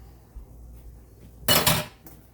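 A metal spoon clinks and scrapes against a dish while stirring a mixture, a brief cluster of sharp knocks after a quiet stretch, close and fairly loud.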